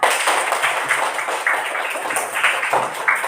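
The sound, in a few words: applause for Bapak Ika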